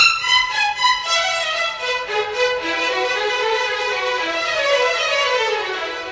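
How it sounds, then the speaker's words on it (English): Classical violins play a stream of even, uniformly bowed notes in a Bach-like style, clear and sustained, with no voices. "they're probably going to play them all exactly alike in the great tradition of Bach"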